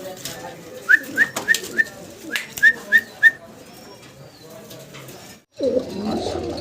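A pair of colouring Golla pigeons coo at a loft, a string of short rising whistled coos repeated in quick succession, close and clear, then a brief rustle and muffled handling noise.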